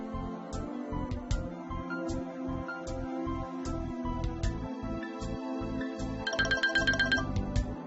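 A mobile phone rings with an incoming welcome call from a payments bank, playing a repeating, pulsing melodic ringtone with a regular beat and a brighter chiming passage toward the end, heard alone without talk.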